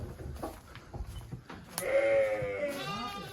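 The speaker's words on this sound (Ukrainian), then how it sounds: "Ось такі баранчики карпатської породи." Carpathian breed sheep on a farm let out a wavering bleat, preceded by scattered faint shuffling and softer animal noises, heard fairly close with a short second call near the end.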